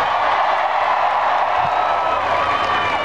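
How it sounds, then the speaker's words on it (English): A large crowd at a presidential political rally in Hollywood, Florida roars and applauds in a continuous, loud, even wash of cheering and clapping, with no clear speech. "Give him a big round of applause."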